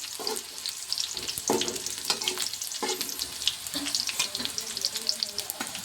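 Capsicum sabzi being stirred in a pan, with a steady sizzle of frying broken by repeated scrapes and clatters of a spoon against the metal, close and fairly quiet.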